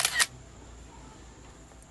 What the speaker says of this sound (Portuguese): Aí aqui tem um pé de manga. Aí a gente tira a foto